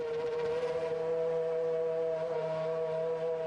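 A Formula 1 car engine idles after being started, a steady droning hum with strong sustained tones and faint rhythmic pulsing, even and unbroken throughout.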